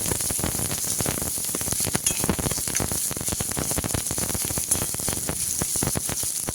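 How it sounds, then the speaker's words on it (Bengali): A medium onion fries in hot oil in a pan for an egg-and-brinjal recipe, a dense, continuous crackling sizzle that stays loud and even throughout. "এবার মিডিয়াম সাইজে একটা পেঁয়াজ ভেজে নিচ্ছি।"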